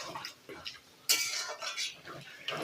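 Soybean posto curry is stirred in a pan, with faint scrapes and light clinks of a utensil against metal, including one brief louder scrape, close and quiet.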